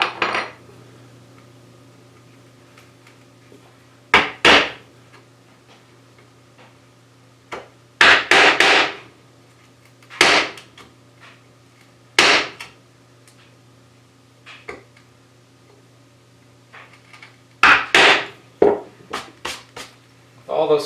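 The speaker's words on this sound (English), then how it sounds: "you can really dig in there with the chisel and continue to hollow out the surface." A chisel hollowing out a blind dado in wood, heard as sharp, close strikes and scraping bursts in irregular clusters over a quiet, steady background hum.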